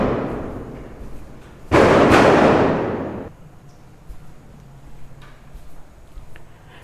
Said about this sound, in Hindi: एक्चुअली बाहर पटाखे बहुत तेज़ छूट रहे थे